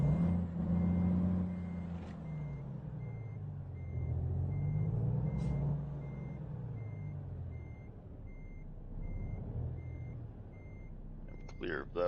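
In American Truck Simulator, a truck's reversing alarm beeps in a steady, evenly spaced series over a low idling engine rumble, while someone talks throughout.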